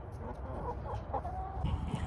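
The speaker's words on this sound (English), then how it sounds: "So we do have backyard chickens" Backyard hens cluck softly and intermittently in a garden, several short clucks close by over a low steady outdoor background.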